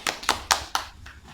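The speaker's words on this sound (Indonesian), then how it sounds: "Malia, tepuk tangan dong buat Malia" Brief classroom applause: a few sharp hand claps in a quick, evenly spaced series, close and fairly quiet, fading out after about a second.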